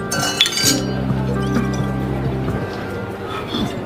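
Glasses clink in a toast at a restaurant, a bright chime near the start followed by ringing tones, with chatter in the background.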